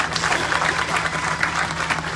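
Mourners at a funeral gathering break into applause, a loud and close wash of many hands clapping steadily throughout the short stretch.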